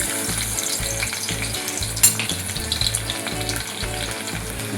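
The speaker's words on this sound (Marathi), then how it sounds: "तर हा आपण ठेचलेला लसूण घालूया." Four or five cloves of crushed garlic sizzle steadily in hot oil for a dried Bombay duck chutney, a close, continuous frying hiss with one sharp spatter, set against a rhythmic backing track.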